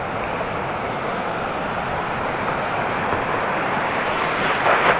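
Continuous roaring surf with heavy broadband wash, waves crashing steadily and loudly close by, a slightly bigger surge near the end; no talking.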